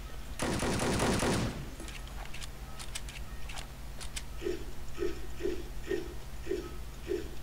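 A loud burst of gunfire from Wolfenstein: Enemy Territory, heard through a player's speakers, opens, followed by scattered shots and clicks, then a steady series of evenly spaced thumps.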